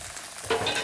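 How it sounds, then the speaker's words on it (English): Cut asparagus starts to sauté in a preheated skillet, a quiet hiss that swells suddenly about halfway through into a brighter sizzle with faint stirring. "I'm just gonna use the same skillet and I'm gonna saute the asparagus that we cut up."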